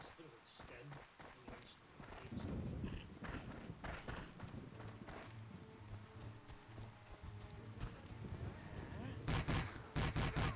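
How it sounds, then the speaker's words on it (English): Heavy machine gun fire in The Great Escape, a PS2 video game, sounding as dense continuous bursts of gunfire mixed with other game sounds and voices throughout. "Is that a heavy machine gun?"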